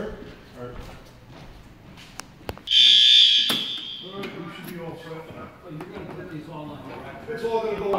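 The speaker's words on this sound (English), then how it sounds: "Testing the fire alarms." During a fire alarm test in a museum sales showroom building under construction, a shrill electronic alarm sounds loudly for about a second after a few sharp knocks. Voices and background activity continue around it.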